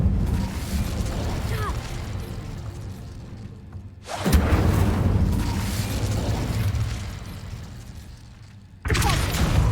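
In Hogwarts Legacy, the Incendio fire spell goes off twice as sudden whooshing bursts that flare over a dense, continuous game soundscape of rumble and effects.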